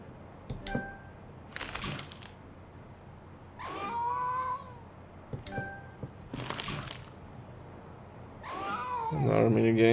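A scared cat in the video game A Space for the Unbound meows and caterwauls several times, drawn-out cries separated by thunks and short pauses, with game sounds and some talk in the background.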